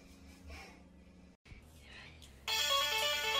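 A mobile phone rings with an incoming call, its electronic ringtone bursting in loud and bright after a stretch of quieter breathing and movement sounds.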